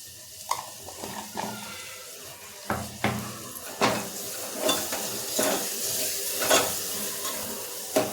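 A spoon stirs tomatoes and salt in a hot pan, making a series of distinct scraping strokes every second or so over a soft, continuous sizzle, close and moderately loud.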